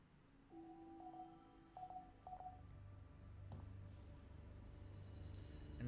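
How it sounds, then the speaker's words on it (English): A phone call tone in The Alters video game: a repeating electronic ring of short, bright beeping bursts over a low steady hum, fairly quiet and alone with no voices. "We got a phone call."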